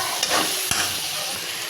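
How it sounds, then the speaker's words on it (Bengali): Green chilli spice paste frying in a pan gives a close, steady sizzle with brief scraping stirs over a short stretch, no talking. "মশলাটা ভালো করে ভেজে নিব।"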